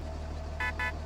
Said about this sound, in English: I didn't know I could do the horn.